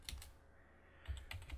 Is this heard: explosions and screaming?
no